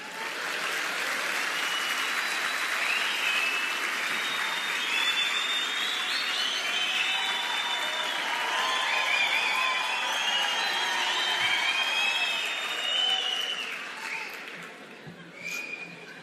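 An audience at a lecture bursts into sustained applause mixed with some cheering, a thick continuous wash of clapping that swells slightly midway and tapers off near the end.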